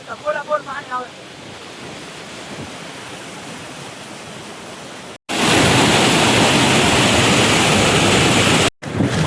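Floodwater pours over the Methala dam (bandharo) in Gujarat during an overflow, a broad, loud, steady roar that jumps sharply louder midway, with people talking faintly nearby in the first half.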